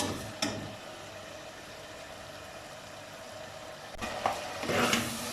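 Mutton for achar gosht browns in a pot with a low, steady sizzle, quiet and continuous, with a couple of brief clatters from stirring and a busier burst of frying near the end.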